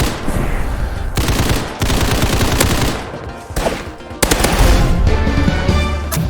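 Rapid bursts of gunfire from a sniper rifle and other guns in a Roblox first-person shooter, loud and close, arriving in several dense volleys separated by brief pauses.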